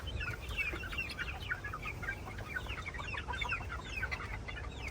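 A dense crowd of chickens and young chicks on a poultry farm, busy overlapping clucks and high peeps chattering continuously and nearby, with no voices.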